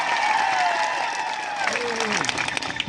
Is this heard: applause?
yes